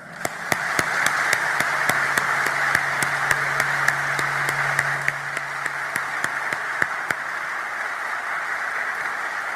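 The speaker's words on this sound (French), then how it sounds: "Célébrons cette attraction mutuelle par un applaudissement qui jaillit du cœur." Applause from an audience at a ceremony in a national palace hall, a steady wash of clapping with sharp, regularly spaced louder claps standing out above it, continuing throughout.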